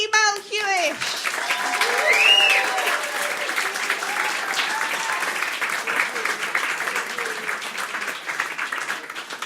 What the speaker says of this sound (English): Do your best clapping, please, for Andy Melhuish.